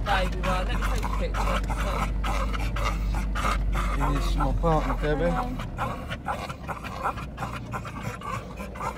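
Dog panting steadily through the clip amid busy outdoor chatter, with several people talking close by over a constant low rumble.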